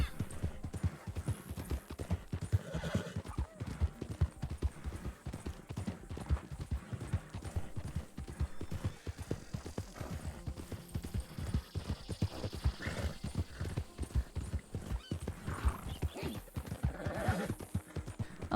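Rhythmic clip-clop of horse hooves walking steadily through a Red Dead Redemption roleplay world, with occasional whinnies mixed in and faint talk underneath, continuing evenly throughout.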